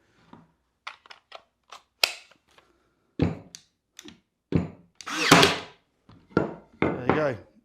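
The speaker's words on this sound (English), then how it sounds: "Really, really recommend this nail gun." A cordless nail gun running on a Makita battery adapter fires a few sharp, loud shots between stretches of nearby talking.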